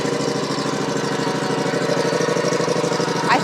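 A Yakta YXR-710 zero-turn mower's engine runs steadily close by, a continuous, even mid-pitched drone with a fast pulsing throb and no speech over it.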